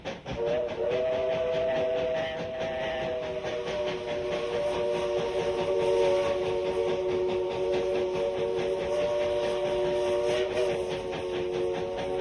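A train locomotive in the Pullman Yard, Georgia, hums with a long, steady whistle-like tone over rumbling rail noise, sustained and fairly loud throughout.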